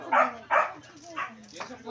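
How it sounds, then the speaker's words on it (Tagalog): A neighbour's dog barks several times, a few sharp yips in an uneven rhythm at moderate distance, mixed with people talking. "Aso doon sa kapitbahay."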